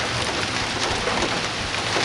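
Summer rain storm in West Florida, a steady dense hiss of rainfall pouring down continuously and fairly loud, with no voices.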